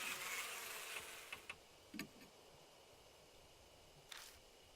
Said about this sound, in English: Bees get slower, and the hive falls silent.